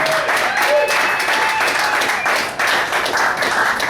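Audience applause for comedian Brad Foster at a comedy night at Cafe Diem in Richmond, Virginia: a steady wash of crowd clapping throughout, with a voice talking over it.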